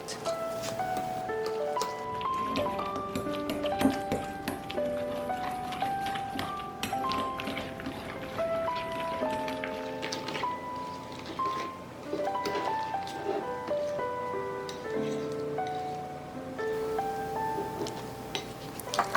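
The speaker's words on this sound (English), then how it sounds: "Transfer the custard into a large bowl and whisk it to break it up and smooth the texture out." A whisk beats thick pastry-cream custard in a large bowl, giving rapid scattered taps and clinks against the bowl, close and steady under background music.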